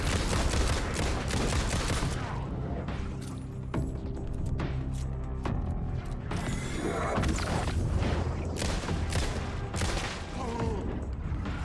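Rapid gunfire in the video game Alan Wake 2, dense loud volleys of shots with booming impacts that run almost continuously, close and intense, with no clear talking.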